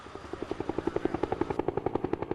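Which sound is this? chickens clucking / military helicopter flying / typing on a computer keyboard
military helicopter flying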